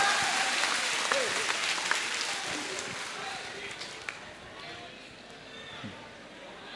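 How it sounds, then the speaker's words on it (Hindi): Loud, dense applause from an audience at a motivational session, a steady roar of clapping that holds throughout and tapers slightly near the end. "एक बार जोरदार तालियां बजा दें इस प्रश्न के बाद।"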